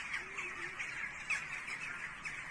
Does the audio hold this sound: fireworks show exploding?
no